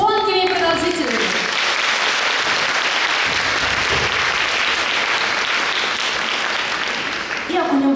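Concert audience applause at a musical-theatre show of baroque-to-rock music, a dense, loud, sustained clapping from a full hall lasting several seconds, with a brief musical tone at the start and end.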